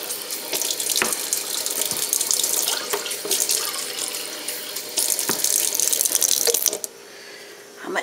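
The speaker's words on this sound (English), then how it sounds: "now we want some cold water." Cold water runs from a tap into a sink with a steady splashing rush, punctuated by a few sharp clicks, then quiets near the end.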